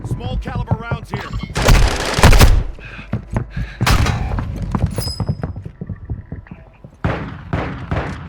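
Small caliber gunfire in the shooter game Warzone on Ashika Island, with loud rapid bursts and single cracks mixed with booms and thuds, sounding close and alternating with brief quieter gaps, while a voice speaks over part of it.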